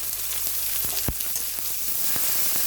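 Chopped green chilies frying in hot oil with onion and garlic paste for an egg masala, giving a dense, continuous close sizzle with a few faint taps and one sharp knock.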